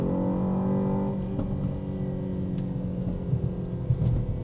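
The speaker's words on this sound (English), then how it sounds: "because I got the sound of, the sound of the engine." An Aston Martin DBX 707 engine revs up strongly and then settles to a lower, rumbling idle with some brief throttle blips, heard close and alone.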